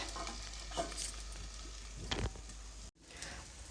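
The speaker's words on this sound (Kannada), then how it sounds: "ಇವಾಗ ನಾನು ಇನ್ನೊಂದು ಕಡೆಯೂ ಸಹ ಒಂದೆರಡು ನಿಮಿಷ ಚೆನ್ನಾಗಿ ಫ್ರೈ ಮಾಡ್ಕೊಳ್ತೀನಿ" An egg omelette fries in oil in a pan, a soft steady sizzle with a couple of brief clinks and stirring scrapes, fairly quiet and close, cutting out abruptly near the end.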